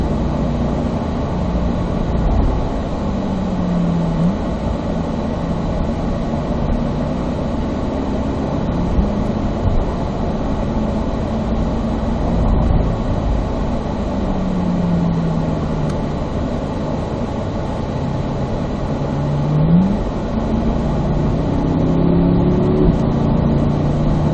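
Corvette Z06 on a race track during a driving experience, a continuous low engine drone with slow pitch swoops as it slows under firm braking and pulls away again, heard from inside the car.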